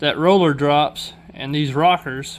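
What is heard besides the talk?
No everyday noise stands out behind the speech.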